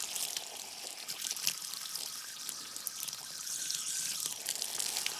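Water running from a newly opened tap on an abandoned deep well system, a steady hissing splash and trickle with no talk.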